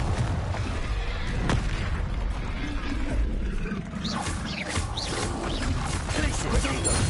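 Fiery Confringo explosion spells burst with booming blasts amid magical combat in Hogwarts Legacy, heavy rumbling impacts layered with spell effects while a voice calls out incantations.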